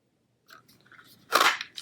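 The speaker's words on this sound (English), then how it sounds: "now I'm going to come in with the Timeless Label Punch, which is this one. And just going to cut this through." A Timeless Label Punch snaps through a sheet of paper in one sharp, close crunch, preceded by faint handling rustles.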